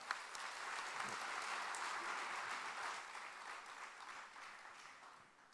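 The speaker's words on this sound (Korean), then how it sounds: "여러분, 다시 한번 박수로 청해 듣겠습니다." An audience at the Sunhak Peace Prize award ceremony applauds steadily, a dense, even sheet of clapping that holds for several seconds and then tapers off, heard from a distance and fairly faint.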